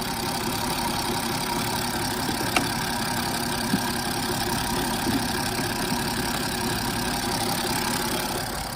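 A BMW 330d N57 diesel engine idles steadily during an injector leak-off test, with a constant low rumble and clattery knock, close by, with a couple of faint clicks.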